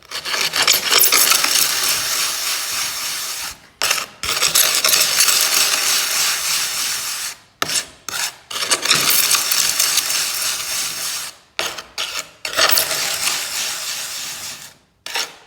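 Red pigment is ground under a stone, giving a loud, continuous abrasive rasping and scraping in long strokes broken by several brief pauses, with no talking.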